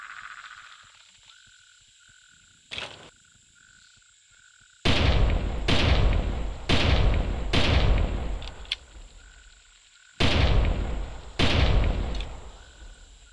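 Gunshots are fired at a giant arthropleura in the Carnivores hunting game. After one early shot comes a burst of loud, sharp reports, then a pause and two more, each trailing a short echo over an ambient creature drone.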